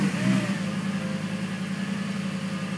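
A Lamborghini Gallardo's engine catching and settling into a low, steady idle, heard up close from inside the car, with a brief rise in level at the very start.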